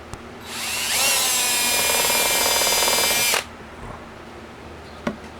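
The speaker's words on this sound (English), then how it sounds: "Drill your pilot holes 3/8 of an inch in from the outside edge." A power drill whines steadily for about three seconds, loud and close, starting with a quick rev and cutting off abruptly while drilling a pilot hole in wood, followed by faint clicks.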